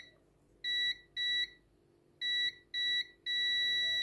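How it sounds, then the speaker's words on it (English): A multimeter in continuity mode beeps while checking wires wound on an FT-140-43 toroid for a 9:1 unun, giving five clear, loud, steady tones of about a quarter to a second each, with the last one held longest. "so I'm going to test that with the multimeter"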